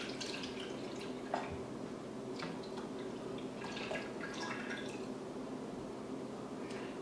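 Evaporated milk glugging and dripping from a punctured can into a container, a faint, irregular trickle with soft drips, quiet and close with no talking.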